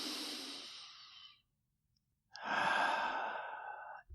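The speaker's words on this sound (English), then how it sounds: "I think I'll take a breath right now." A person takes a deep breath, a long airy exhale trailing off, then a pause and a second full breath rushing in, close and clear with no talk.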